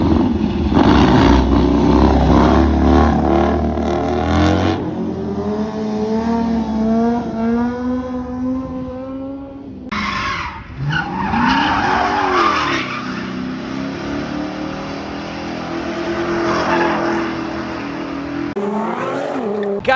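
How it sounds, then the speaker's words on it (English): Tuner cars rev hard and skid with squealing tires on the Angeles Crest mountain road, loud and close. Engine notes rise and fall across several passes with a brief drop near the middle. "Tuner cars doing tuner things."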